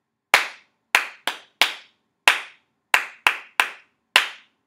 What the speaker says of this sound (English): I'm going to clap this one first because it's a little tricky.